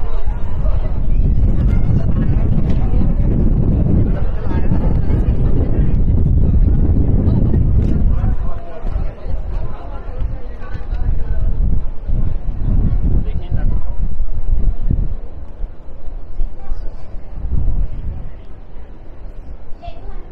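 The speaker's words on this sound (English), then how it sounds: "Pretty windy up here. Can imagine at this elevation it'll be windy." Strong wind buffets the microphone on a high open-air observation deck of a New York City skyscraper, a loud steady roar with gusts that ease and surge, while people talk nearby.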